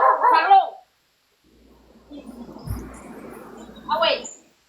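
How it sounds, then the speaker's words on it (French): A pet dog named Charlot gives short yips and barks at the start and end, with someone talking over the sound in a quiet room. "je veux pas entendre mon chien japper"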